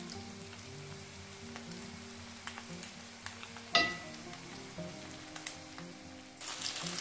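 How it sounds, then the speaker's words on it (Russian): Bear paw cutlets frying in two pans, a steady light sizzle with scattered crackles and pops, one sharper clatter midway and the sizzle swelling louder toward the end. "И быстренько обжариваю наши медвежьи лапы с 2 сторон."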